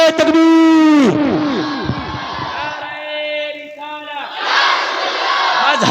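Large crowd at a religious gathering shouting the takbir slogan in unison after a leader's loud call, a long echoing collective roar that swells, dips and rises again.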